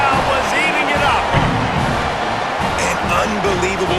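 A college football crowd at a New Mexico State versus Liberty game roars after a touchdown, producing a loud, sustained wash of cheering and whoops with a commentator talking over it.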